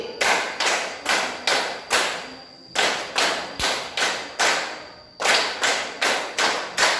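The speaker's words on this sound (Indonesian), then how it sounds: "Terus sekarang tepuk 5 kali, 3 kali" A class of students claps in unison in counted groups, sharp broadband bursts of rapid claps separated by short pauses, loud and close with no talking over it.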